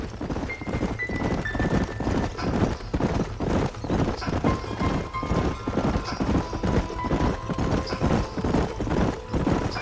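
Steady rhythmic clip-clop of several horses trotting in the video game Red Dead Redemption, close and continuous, with occasional whinnies and faint tonal music underneath.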